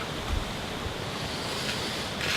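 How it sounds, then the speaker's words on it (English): Steady wind roars across the microphone, a constant broadband rush with faint surging gusts and no voices. "it's quite windy here today"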